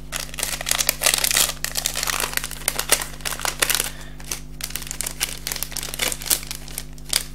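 Crinkly plastic packaging is pulled and torn open up close, a loud, continuous rustling and crackling that runs throughout with only brief pauses.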